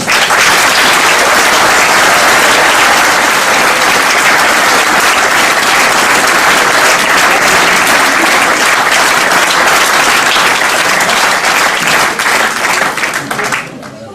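Loud, sustained applause from a large audience giving an ovation to the candidates of the Marguerite list at a closing political rally in March 2014, steady clapping that fades only near the end.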